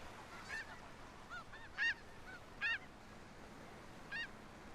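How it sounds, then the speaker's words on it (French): Several snow geese honking at a distance, five or six separate nasal calls spaced irregularly over a faint background hiss. "une observation d'oie des neiges qui est aussi un oiseau"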